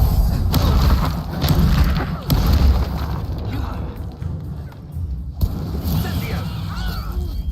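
Reducto spell blast in the video game Hogwarts Legacy, booming thuds and crashing bursts in a loud, busy fight, with a voice shouting over them.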